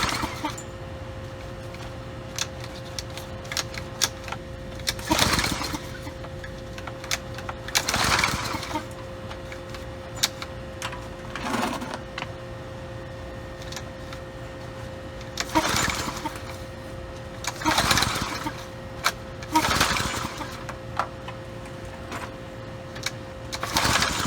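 Briggs and Stratton engine on a trashed pressure washer being pull-started: repeated rough bursts of cranking and sputtering at intervals, with brief failed catches between pulls against a steady hum, fairly close.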